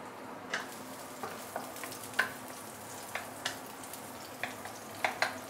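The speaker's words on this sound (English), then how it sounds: "we can add in the ginger and garlic. Saute it for a while." Ginger and garlic sauté in hot oil in a pan, a steady soft sizzle broken by light clinks and scrapes of a utensil stirring at an uneven rhythm.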